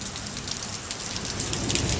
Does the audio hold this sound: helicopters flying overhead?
no